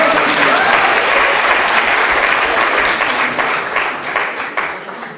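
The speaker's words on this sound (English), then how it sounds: "I want you to clap if you're up for it." Audience applause fills a lecture hall at a university talk, dense and sustained clapping that holds steady, then thins slightly toward the end.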